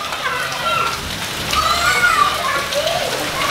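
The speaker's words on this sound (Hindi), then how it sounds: "बहुत तेज़ बारिश हो रही है" Heavy rain falling steadily in a dense continuous hiss, loud and close, with a faint voice in the background.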